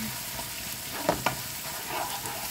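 Squid sauce with black pepper being stirred in a pan, a low sizzle with two quick scraping stirs of a utensil partway through.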